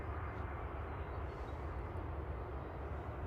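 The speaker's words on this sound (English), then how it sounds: "EasyJet 702 from Belfast here, EGEZOU." EasyJet airliner on flight 702 from Belfast at Manchester Airport, a continuous, fairly distant low jet engine rumble that stays steady and alone, with no talk.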